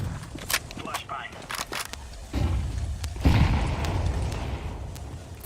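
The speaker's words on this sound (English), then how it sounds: "Flashbang." A flashbang grenade goes off in a video game as a sudden broad burst partway through, followed by a lingering noisy wash, after scattered sharp clicks and thumps, with voices in the background.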